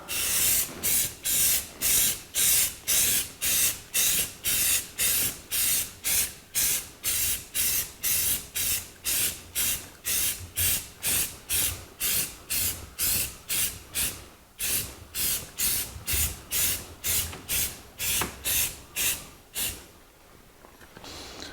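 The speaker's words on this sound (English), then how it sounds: "And this is our third and last coat of primer." Repeated bursts of spray-gun hiss as a primer coat goes onto the fender well of a 1949 Chevrolet gasser, about thirty short even passes in steady rhythm, close and loud, with no talking.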